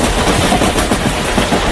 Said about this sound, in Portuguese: ouvem o barulho do trem se aproximando